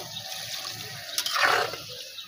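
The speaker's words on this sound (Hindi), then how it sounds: "थोड़ा सा और पानी शामिल करेंगे इसको।" Water poured into a cooking pot of potatoes in a village kitchen, a soft splashing trickle that swells briefly into a fuller pour before tapering, fairly faint and close.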